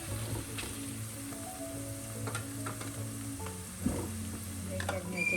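Chicken curry with green chilies sizzles steadily in a pan while a spoon stirs it, giving soft scraping and clinking over a constant frying hiss, with faint background hum and no talk.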